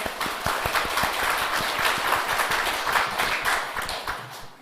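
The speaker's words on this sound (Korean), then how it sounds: "주님께 영광의 박수 올리겠습니다" A congregation at a Sunday church service claps together in steady, dense applause that tapers off slightly at the end.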